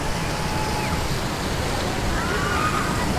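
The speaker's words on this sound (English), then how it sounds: "nice little calm water ride this" Water churning and splashing on a calm theme park water ride at Europa Park, a continuous broad rushing wash close by with no talk over it.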